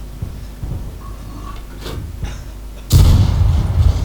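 A tank destroyer's gun in a video game fires a loud, sudden cannon-like boom near the end, followed by a sustained roar, after quieter mechanical clanks and rumbles.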